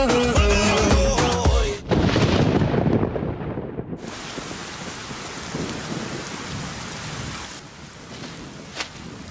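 Heavy rain pours steadily with thunder rumbling through it, loud and close, in the Telugu film Bhale Bhale Magadivoy. A short burst of music plays at the start, then the downpour carries on alone without voices.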